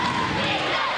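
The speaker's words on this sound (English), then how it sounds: "Crowd getting into it." A 1999 championship basketball crowd in a gym roars and cheers loudly and continuously, with thumps scattered through the din.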